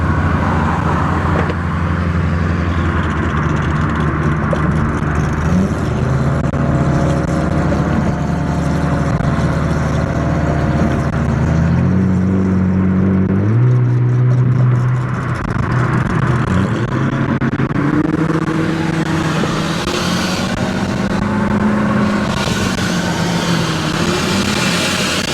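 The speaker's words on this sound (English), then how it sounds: "So my girlfriend is the one driving the Corvette right now." Supercharged Chevrolet Corvette C6 out on the road, engine droning loud and continuous with shifting pitch as it changes gears, heard from close by without any speech.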